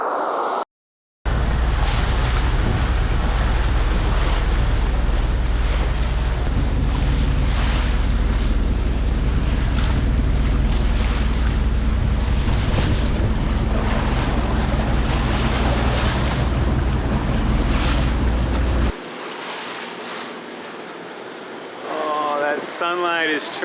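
Gusting squall wind roars over a sailboat at sea in the Atlantic, with waves washing along the hull in a loud, steady wash that cuts out near the end, leaving faint voices.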